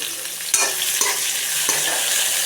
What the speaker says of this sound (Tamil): இதையும் போட்டு நம்ம நல்லா வதக்கிக்கலாம்.